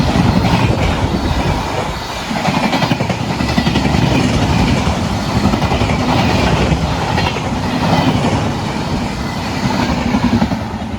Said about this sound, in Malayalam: അങ്ങനെ ദുരന്തോ എക്സ്പ്രസ് നമ്മുടെ ചന്ദേര റെയിൽവേ സ്റ്റേഷൻ സ്കിപ്പ് അടിച്ച് പോയിട്ടുണ്ട്.